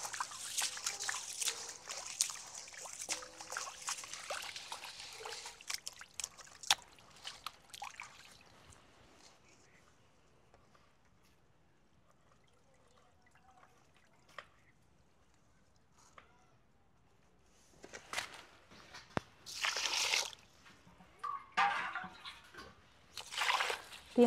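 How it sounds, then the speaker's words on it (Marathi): Raw rice is swished and rinsed by hand in water for prawn rice, with wet sloshing and trickling at the start, a long near-silent stretch, then louder bursts of splashing and draining near the end. "2 ते 3 पाण्याने स्वच्छ धुवून घेऊया।"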